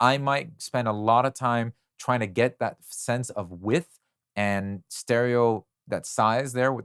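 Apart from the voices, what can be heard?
No everyday noises stand out.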